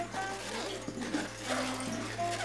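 Plain cold water is poured out in a light, steady splash for a couple of seconds over a constant low electrical hum, with no voices.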